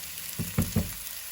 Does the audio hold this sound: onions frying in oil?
yes